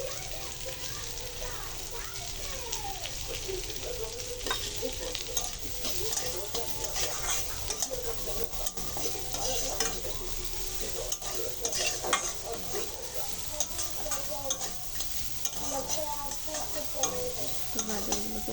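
Carrots fry in hot oil with salt added, a steady broadband sizzle running throughout, joined by frequent stirring and scraping in the pan, with faint voices in the background.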